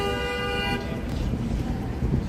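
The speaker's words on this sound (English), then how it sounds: "They're honking because they don't want to wait on the pedestrians here." Car horns on a busy Chicago street at a pedestrian crossing, a loud sustained honk up close that cuts off partway, followed by traffic rumble and another short toot near the end.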